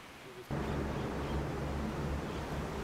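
A waterfall in the Yungas rainforest on a dangerous mountain road gives off a steady, broad roar that begins abruptly after half a second and holds level throughout.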